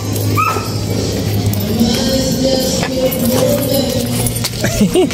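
A dog yips and whimpers in short bursts on New Year's Eve over a steady low hum, with a few brief jangling sounds mixed in.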